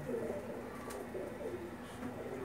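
A pigeon held in the hand coos in soft, low, repeated murmurs close by, several short throaty phrases over a quiet room background.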